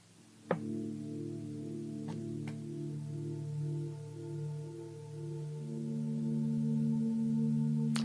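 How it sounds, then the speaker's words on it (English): Soft, sustained metallic tones hum and overlap, with a few faint strikes near the start, steady and low in volume throughout. "See if you can hear the singing bowls in the background that I got playing."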